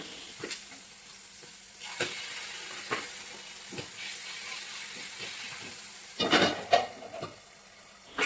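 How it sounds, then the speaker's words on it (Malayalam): Paneer fries in a pan with a quiet, steady hiss of sizzling oil. Occasional utensil taps punctuate it, and a burst of louder spattering comes near the end. "അപ്പോൾ നമുക്ക് പഞ്ഞീനും കൂടി ഒന്ന് വറുത്തെടുക്കാം"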